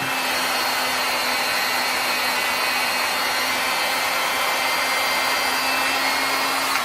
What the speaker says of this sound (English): as I just spun up the flywheel